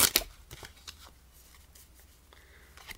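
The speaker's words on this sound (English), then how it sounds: "So we will try this again with another shuffle." A deck of playing cards being shuffled during a close-up card trick, a quick loud riffle burst at the start followed by softer scattered flicks and taps of cards, near and alone with no talk.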